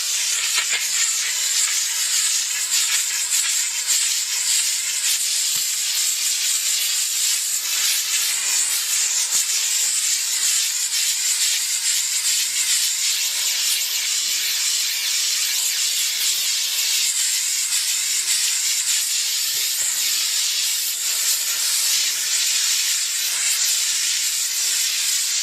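A steam car wash machine cleaning a car seat gives off a continuous, loud, bright hiss of steam that holds steady throughout, with faint rubbing and scrubbing textures beneath it.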